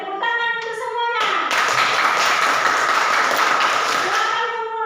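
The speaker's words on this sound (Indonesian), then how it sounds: "tepuk tangan untuk semuanya" A classroom of students claps together for about three seconds, a loud burst of hand clapping that starts abruptly, with tonal voices heard before it and again as it ends.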